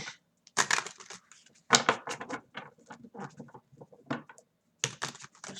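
Tarot cards are shuffled up close in quick papery bursts and riffles, with brief pauses between flurries and no voices.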